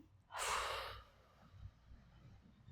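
A single loud, breathy exhale lasting under a second during a hamstring exercise on a mat, close to the microphone, followed by quiet room tone and faint low rumbles.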